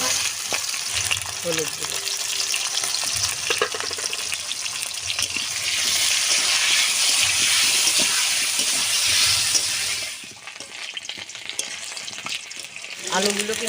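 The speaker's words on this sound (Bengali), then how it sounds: "এবার সুন্দর করে আলুগুলো আমি ভেজে নেব।" Potatoes fry in hot oil in a pan with a loud, steady, close sizzle that softens after about ten seconds. Stirring scrapes sound underneath, and a voice speaks briefly.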